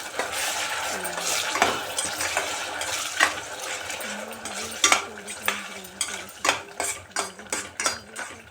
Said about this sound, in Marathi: पेस्ट थोडी तेलामध्ये परतून घ्यायची.